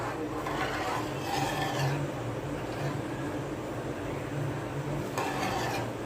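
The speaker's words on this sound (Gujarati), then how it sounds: "હવે સારી રીતે આપણે મિક્સ મિક્સ કરતા રહેશું" A spoon stirs about a litre and a half of milk in a pot for sev kheer, giving a steady, close scraping and rubbing over a low continuous hum.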